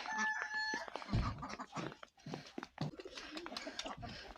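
Chickens cluck and pigeons coo and flutter around a farmyard coop, a busy overlapping mix of bird calls with someone speaking over them.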